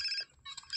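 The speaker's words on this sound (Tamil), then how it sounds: "ஃபோன் வருது." A phone ringing in the GTA San Andreas video game: a brief, faint burst of electronic ringtone chirps with a short gap between them.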